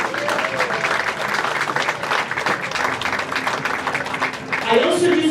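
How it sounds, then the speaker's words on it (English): Steady applause from an audience at an awards ceremony fills the clip, a dense wash of clapping that continues without a break. "So give them a round of applause."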